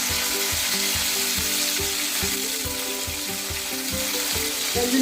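Curry leaves and green chillies dropped into spluttering mustard and cumin seeds in hot oil, a loud, close, continuous sizzle with rapid popping.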